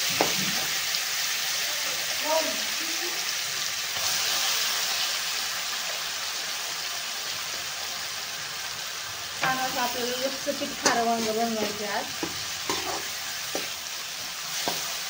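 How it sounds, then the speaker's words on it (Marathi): Steady hissing sizzle of a spice tempering in hot oil for an eggplant dish throughout, with a voice speaking briefly over it near the end. "अशी मस्त सरसर फोडणी दिली ना तर एकदम भाजीला चवच वेगळी येते।"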